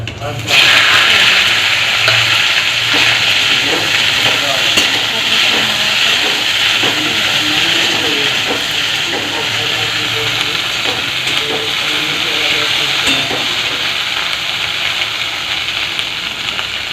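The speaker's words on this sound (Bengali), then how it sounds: "কড়াই তেল দেওয়া হলো, তেলটা গরম হয়ে যাওয়ার পরে ওটা জিরে দিলাম, কেটে রাখা ভেন্ডিগুলো" Sliced okra hitting hot oil with cumin in a wok, a loud, sustained hiss and crackle of frying that settles into a steady sizzle with faint stirring clicks throughout.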